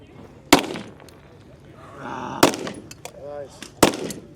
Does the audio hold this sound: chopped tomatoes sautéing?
no